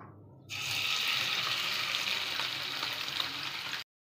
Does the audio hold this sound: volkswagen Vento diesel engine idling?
no